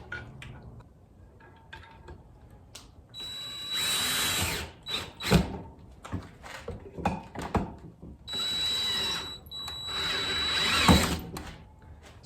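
A power drill driving screws into the wood of a homemade sawhorse, two long whirring runs with clicks and handling knocks between them, close and clear with no talk.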